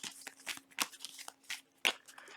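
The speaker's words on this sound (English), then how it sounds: "I'm going to shuffle everything and I'm just going to spread it out." A deck of tarot cards is shuffled by hand close up, a quick series of crisp riffling bursts and soft slaps in an uneven rhythm, with no talk.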